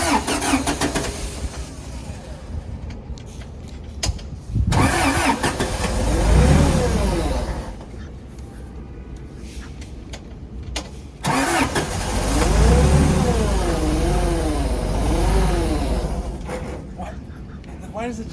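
A drift car, a dream build belonging to an FD champion, cranks and starts, revs in rising and falling sweeps, then dies quickly, twice over, loud and close, with voices talking over it.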